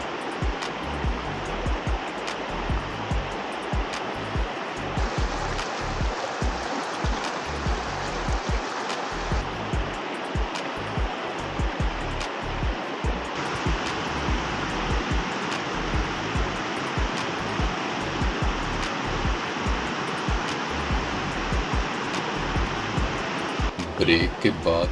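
Water rushes steadily along a river through a scenic Welsh valley at Blaen Y Glyn, a continuous broadband flow with no let-up, close and fairly loud throughout.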